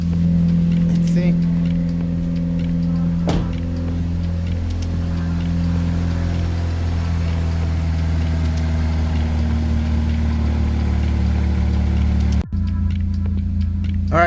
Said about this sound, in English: the car's been sitting idling for a few minutes now